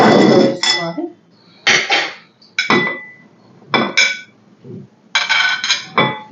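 Ingredients dropped into a bowl for a dragon fruit drink, a series of loud, close clinks and ringing knocks of metal and glass against the bowl in separate bursts with quiet gaps between.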